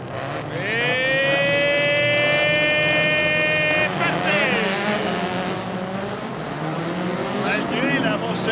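Rallycross cars launch together from the start of a wet qualifying heat at Trois-Rivières, their engines screaming up through the gears in loud rising whines under excited commentary.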